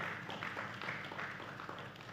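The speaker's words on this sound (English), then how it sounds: "I want you to welcome our speakers with a round of applause" A seated audience at a panel on Irish, Scottish and Caribbean connections applauds to welcome its speakers: steady, fairly soft clapping from a moderate-sized crowd, continuous for about two seconds with no voices over it.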